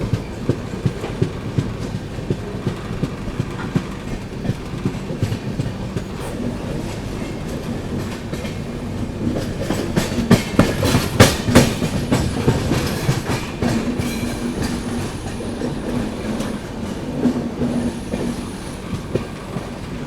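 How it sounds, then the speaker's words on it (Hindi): The 12615 Grand Trunk Express pulls into Sevagram Junction station in India with a steady rumble and rhythmic wheel clatter that swells midway and carries faint wheel squeal, with no talking. "आगे अपना अराइवल होता हुआ दोस्तों सेवाग्राम जंक्शन रेलवे स्टेशन पे।"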